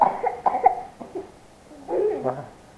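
A child's cough after playing in the rain, heard close and loud as a few short bursts, a pause, and then another longer, rougher burst. Some voicing in it sounds close to laughter or throat clearing.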